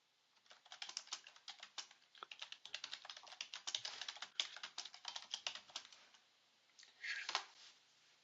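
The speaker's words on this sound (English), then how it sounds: "I was just typing" Keys on a computer keyboard are tapped rapidly in quick, uneven bursts, close and fairly quiet. A brief pause comes near the end before a final flurry of keystrokes.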